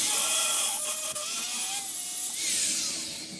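Power grinder working on a Ford Sport Trac pickup, a continuous harsh, gritty whine that shifts pitch slightly as it bites, loud and close for a few seconds before easing off at the end.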